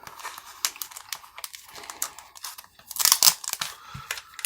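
A resealable plastic bag holding a 1/48-scale decal sheet is opened, giving a run of close, sharp crinkles and rustles that swell into a louder burst of crackling toward the end.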